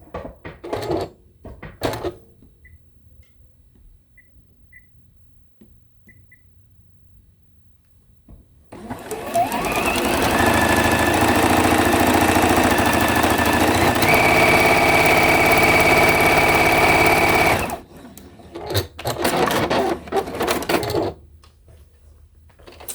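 Sewing machine running a straight stitch at a shortened 2.0 length while piecing Christmas tree quilt blocks, one steady close whir of about nine seconds between quieter handling noises.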